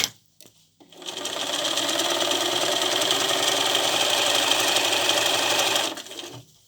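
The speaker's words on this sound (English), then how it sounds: "we're going to sew down to this seam" A sewing machine stitches quilt binding down to a seam in one steady, fast mechanical whir lasting several seconds, close by, with brief handling noises before and after and no talk.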